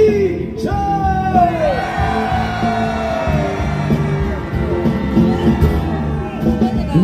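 A large crowd at a candlelight impeachment rally and concert in Daegu roars and cheers together, a loud, sustained mass of yelling voices that keeps swelling and dipping.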